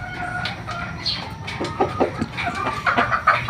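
A rooster of Raptor gamefowl bloodline clucks in a pen in short, scattered calls, close and moderately loud, with faint rustling and flapping between the calls.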